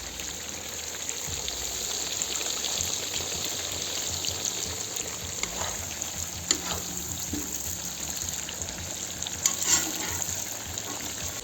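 Onions frying in oil for Tashkent plov give a steady, close crackling sizzle that runs unbroken throughout, with a few sharper pops and stirring clinks near the end.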